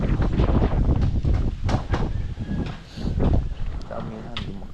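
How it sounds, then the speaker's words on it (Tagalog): Strong northeast monsoon gusts buffet the microphone with heavy, rumbling wind noise that surges and eases over a few seconds, outdoors near a tomato field. "lakas ng hangin ngayon"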